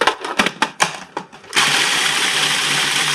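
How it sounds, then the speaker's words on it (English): A food processor grinds graham crackers and sugar. A few sharp rattling pulses come first, then the motor settles into a steady, loud whirring drone. "Just break them up a little bit and put them into the food processor."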